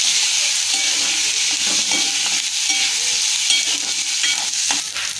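Tomatoes, curry leaves and green chilies fry in a pan, a steady close hiss of sizzling oil broken by soft scraping and clinks as the mixture is stirred, with no talking.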